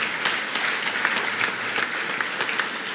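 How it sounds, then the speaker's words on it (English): A banquet crowd at a dirt track racing awards night breaks into sustained applause, dense and even clapping that fills the room close by with no voices standing out. "I think we should all give them a round of applause for unbelievable"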